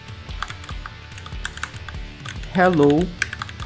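Steady clicking of a computer keyboard as Python code is typed into a notebook cell, quick irregular keystrokes near and clear, with a voice speaking briefly over the typing.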